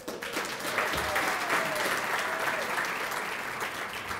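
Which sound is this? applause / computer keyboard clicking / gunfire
applause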